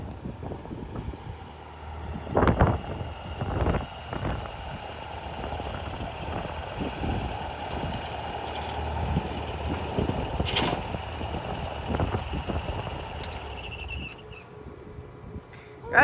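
A farm tractor labours up a hill, its engine a steady rough drone with clanks and bumps throughout, close and fairly loud with a faint outdoor rumble.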